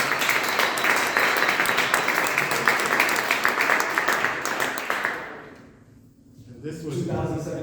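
An audience at a poetry showcase claps warmly to welcome a poet for about five seconds. The applause then dies away, and a voice follows near the end.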